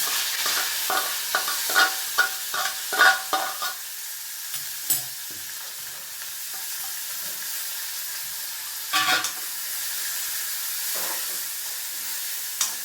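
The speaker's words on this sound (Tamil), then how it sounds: "நல்லா வதக்கிக்கோங்க. நல்லா வதங்கணும்." Green peas with mustard seeds and cumin are sautéed in hot oil. A spoon scrapes and stirs in a quick run of taps, then a steady sizzle hisses with occasional stirs, close up and with no voices.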